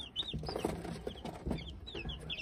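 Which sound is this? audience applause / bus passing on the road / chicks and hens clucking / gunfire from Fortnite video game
chicks and hens clucking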